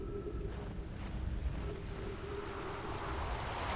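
A steady rush of flowing water fills the scene in the video game The Outer Wilds, a constant broadband wash with no breaks, moderately loud and alone.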